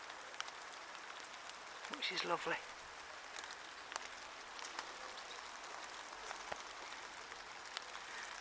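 Rain falls steadily in a garden, a fine hiss with scattered droplet taps. A person briefly speaks over it.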